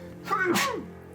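A single sharp sneeze bursts out over a quiet room with a faint steady hum, fading quickly afterward.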